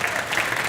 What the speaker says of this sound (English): give them a clap. Give them a hand clap.